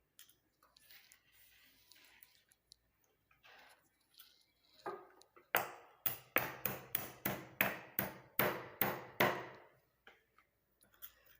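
Cinnamon bark pounded by hand: after a quiet stretch of faint rustling, about ten heavy, evenly spaced thuds land in quick rhythm, close and loud, then stop.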